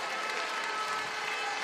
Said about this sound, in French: Mesdames, messieurs, applaudissements.